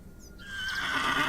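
A horse in The Excavation of Hob's Barrow video game lets out a long, rising whinny that builds in loudness and carries on over a steady background.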